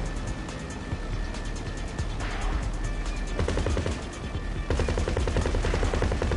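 Gunfire during a video game heist comes as rapid, steady automatic bursts layered over engine rumble, loud and close, growing heavier toward the end.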